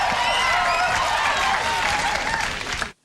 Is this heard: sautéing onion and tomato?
no